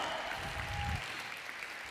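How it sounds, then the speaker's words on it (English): Applause from a conference audience fills the room, a steady wash of clapping that holds for about a second and then thins to a quieter tail. "A round of applause, everyone."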